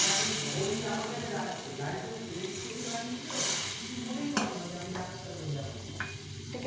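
Pre-boiled water goes into a pan of sautéed sabudana khichdi, raising a steady sizzle and steamy hiss with a few stirring scrapes, while someone talks over it.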